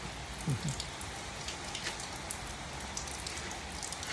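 Rain falls steadily at Wang Thong, a continuous broad hiss of drops striking surfaces with a few sharper splashes near the start, no one speaking.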